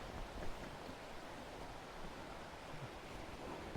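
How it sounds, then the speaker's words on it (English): Waterfall in Gibson's Cave, County Durham, a steady broadband rush of falling water heard from a short distance, continuous and fairly faint, with no voices. "Here's our first sighting of the waterfall"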